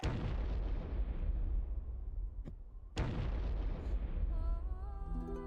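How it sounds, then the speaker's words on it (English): In the strategy game Medieval: Total War, moving a unit to another region sets off a booming, explosive rumble that fades and then hits again with a second sharp blast. A musical tone rises near the end. "I do like the sound it makes when you move a unit to another region"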